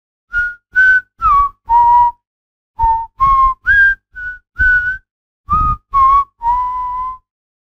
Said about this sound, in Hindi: डेविड दरवाजा बंद करके अपने मन में सीटी बजाता हुआ एक बार सभी दराजों को चेक करने लगा।